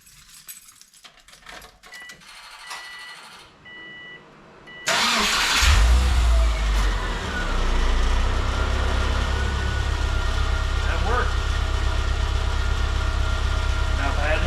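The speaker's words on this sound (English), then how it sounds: "car should idle." After a battery replacement, a car engine cranks and catches following a quiet stretch with faint beeps. It then settles into a steady, loud idle with a low rumble, and a voice speaks over it.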